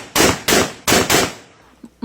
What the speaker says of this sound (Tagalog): walang habas na nagpaputok ng baril sa ere